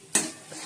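Onion and green chili hitting hot oil in a pan, a sudden loud sizzle burst that settles into a softer steady crackle, with no talk.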